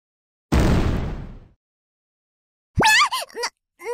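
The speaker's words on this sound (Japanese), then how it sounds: "なに？ この爆発は" A single loud burst explodes in a mobile action game, a broadband blast that decays over about a second, followed after a pause by a rising whoosh and short tonal game effects.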